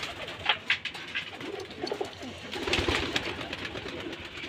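Giribaz pigeons, including a black Gola, coo softly in a loft full of eggs and chicks, a few close, uneven coos and wing stirrings over a quiet background.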